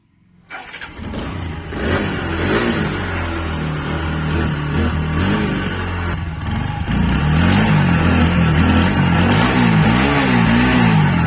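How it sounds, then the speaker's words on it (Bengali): A used TVS Apache RTR 160 4V motorcycle engine cranks and catches, then runs steadily at a close, loud idle with a slight rise in pitch partway through. "চলুন গাড়িটা স্টার্ট দিয়ে দেখি কি অবস্থা, সাউন্ড"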